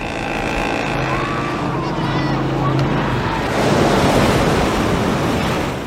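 Surf washes onto the beach at Trujillo, Peru, a continuous loud rushing wash that swells in the second half, with wind buffeting the microphone and a faint tonal hum early on.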